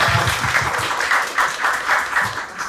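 Brief applause greets the first-place finisher at an idol project audition, with a steady patter of clapping from a small group, fairly close and unbroken.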